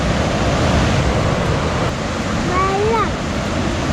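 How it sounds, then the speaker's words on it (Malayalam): Sea waves wash ashore on the Kerala coast near Kochi, a loud, steady broadband roar of surf close by, with a brief chirping tone near the end. "ഇപ്പം നല്ല ഈ കടലിങ് കയറിയിട്ടുണ്ട്."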